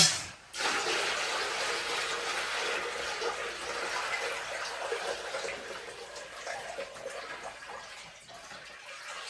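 A bucket of water poured into a shower pan with a linear drain during a flood test, a loud steady rushing splash that runs for several seconds before easing off slightly.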